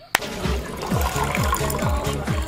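Liquid poured into several drinking glasses: a sharp clink at the start, then a run of gurgling, glugging pours in a regular rhythm, close and clear.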